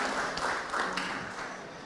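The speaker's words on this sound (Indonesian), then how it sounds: "Tepuk tangan dulu dong" An audience at a pesantren gathering gives a short burst of applause, dense clapping that stays steady and fades slightly toward the end.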